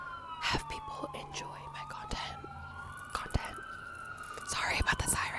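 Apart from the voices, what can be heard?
emergency vehicle sirens passing outside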